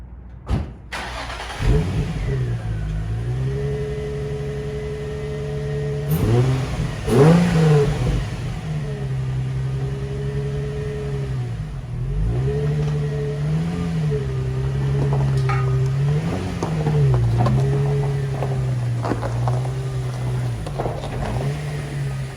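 A Nissan 350Z drives along a road and revs repeatedly, its engine note rising and falling in several loud surges over a steady idle and cruise, close by, with no talk.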